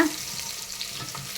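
Garlic sautés in a hot pan, a short close sizzle with a stirring scrape over the steady hiss.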